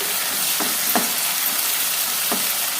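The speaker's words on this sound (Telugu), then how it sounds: "ఉల్లిపాయలు ఫ్రై అయిపోయినాక ఇప్పుడు ఇందులోకి ఒక టమాటాను పీసెస్లా కట్ చేసి వేసేసుకున్నాక ఒకసారి మిక్స్ చేసేసుకొని" Onions and tomato pieces frying in a pan, a constant dense sizzle close by, with a few soft scraping stirs of a spoon.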